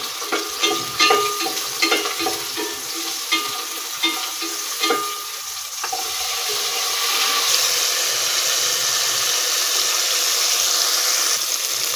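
Tomatoes are sautéed in a pot for sinigang. A spoon scrapes and stirs in rhythmic strokes, then gives way to a steady, close sizzle.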